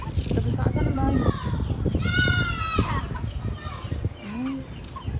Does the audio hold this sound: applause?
no